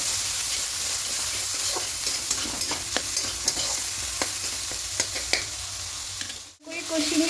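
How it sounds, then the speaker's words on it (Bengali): Ginger, garlic and green chili paste sautéing in a pan, a continuous loud sizzle with light scraping stir strokes at a steady pace, then a short drop near the end. "এবার এখানে আদা রসুন কাঁচা লঙ্কা পেস্টটা দিয়ে দেবো। দিয়ে খুব ভালো করে কষিয়ে নেবো"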